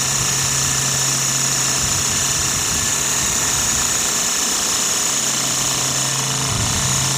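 A small Sirius steam engine drives a 6-volt generator of the kind once used to charge radio batteries, running on steam at 30 to 40 psi. A steady, close mechanical whir and hum continues without a break.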